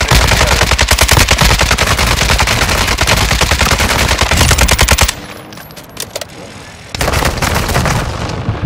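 Sustained automatic gunfire in Call of Duty Warzone on Ashika Island, dense and loud rapid bursts for about five seconds, a brief lull with scattered shots, then heavy firing resumes.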